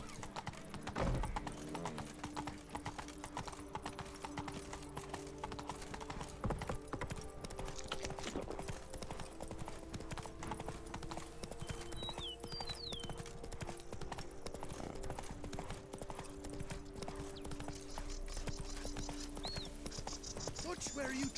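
Horse hooves clip-clopping steadily at a run through a busy medieval game world in The Witcher 3: Blood and Wine, with a brief whinny and constant background ambience and music throughout.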